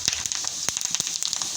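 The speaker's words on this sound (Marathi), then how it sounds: "खोबरं आपल्याला चांगलं लाल भाजून घ्यायचं आहे" Coconut roasting in a hot pan for chicken dum biryani, giving a close, steady sizzle with a dense run of small crackles and pops throughout.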